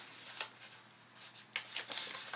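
Paper sewing pattern piece for a child's pants fly is folded by hand, soft close crinkling and rustling in short bursts, quiet with no talk.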